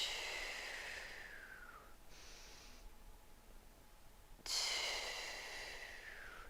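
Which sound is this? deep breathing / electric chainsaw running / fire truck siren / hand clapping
deep breathing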